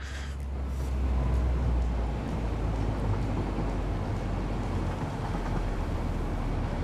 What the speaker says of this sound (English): I love that deep noise that this train makes when it pulls away.